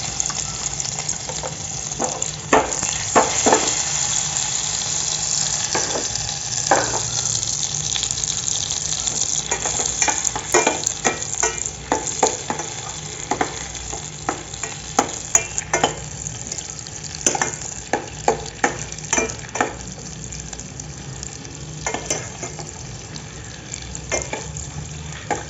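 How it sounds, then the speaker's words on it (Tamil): Cashews fry in a pan for apple halwa, a steady sizzle broken by frequent stirring scrapes and clicks that carry on for the whole stretch, up close with no voices. "நெக்ஸ்ட்டு நம்ம இதில் முந்திரியை போட்டு வறுத்துக்கலாம்."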